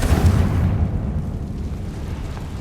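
Confringo blasting spell in Hogwarts Legacy erupts as a single loud, close explosion, a deep booming burst that swells at once and then settles into a long, rumbling decay.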